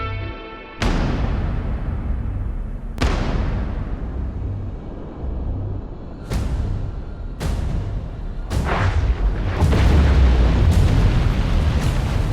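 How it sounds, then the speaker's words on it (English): A series of heavy depth charge explosions from a WWII destroyer escort, the USS Slater: six or so sharp, loud booms with rumbling tails, coming in irregular succession and closer together toward the end. "Depth charges are still among the most effective weapons against submarines."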